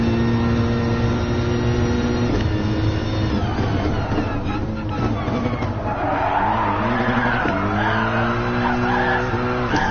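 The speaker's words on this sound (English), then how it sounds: "No, don't drift. We're wasting our tires." Mercedes AMG GT drifting in Gran Turismo Sport, loud sustained tire squeal with a revving engine that shifts pitch several times, close and continuous.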